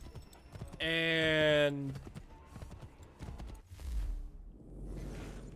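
Horse hooves clop in quick steps in the video game Assassin's Creed III Remastered, beneath a brief whinny-like tone, with scattered clicks and faint talk around them.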